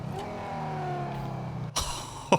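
A Banshee sports car in GTA 5, modeled on the Dodge Viper, revs and holds a steady engine drone with rising harmonics, then blips sharply twice in loud bursts near the end.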